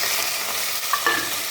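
Chana dal and spices for a chutney tempering sizzle in hot oil, with a soft steady frying hiss and a couple of brief stirring scrapes near the end, no talking.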